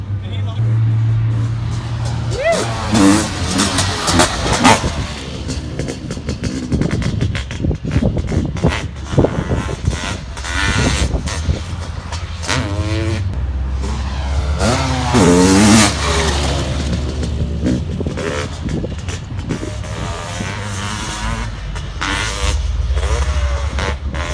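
A Honda CR500 motocross bike idling and revving at a motocross raceway demo day, its engine note rising and falling loudly and close under continuous conversation, with other bikes and crowd noise in the background.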